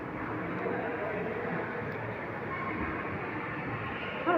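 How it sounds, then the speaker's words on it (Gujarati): A train runs past, heard from a mall parking area as a continuous broad rumble that holds steady throughout, with faint voices in the background. "જો રેલગાડી હાલે છે"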